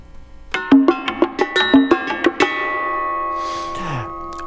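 A percussion measure built on a low, medium, high pitched theme, with about a dozen struck notes in quick uneven rhythm ringing into sustained metallic tones, then a fading wash at the end; close and fairly loud, no talk.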